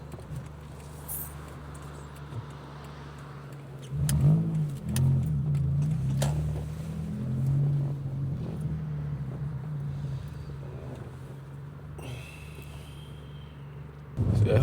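A car heads out onto the road after a food pickup, its engine a low steady hum with a rise as it speeds up mid-drive, and a brief rattle near the end; no one speaks.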